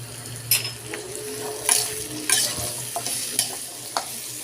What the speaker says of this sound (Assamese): আৰু মই আন্দাজমতে নিমখ দি ভালদৰে মিলাই ল'ম।